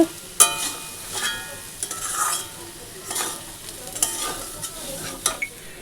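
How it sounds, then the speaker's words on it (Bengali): Soybean chunks frying with spices in a pan, a soft sizzle running under intermittent scraping and clinking strokes of a stirring spoon, close and fairly quiet, with no speech. "সোয়াবিন মশলা দিয়ে ভাজা হয়ে গেছে"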